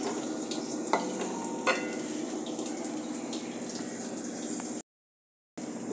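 Sugar syrup for a bread-cake sweet boils in a pan with a continuous close bubbling hiss and a few faint clinks. The sound cuts out briefly near the end, and no one speaks.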